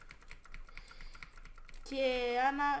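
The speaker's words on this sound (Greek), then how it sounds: "Χρησιμοποιώ της Razer το Black Widow 2014, το mechanical keyboard," Quick, crisp clicks from a Razer BlackWidow 2014 mechanical keyboard tap away for a couple of seconds, then a voice starts speaking close by.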